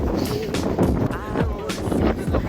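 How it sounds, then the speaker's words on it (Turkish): Wind rushes and buffets the microphone in uneven gusts during the Wings for Life World Run 2016 in İzmir, while someone talks nearby over the noise. "Rüzgarın sesini duyuyorsunuzdur muhtemelen."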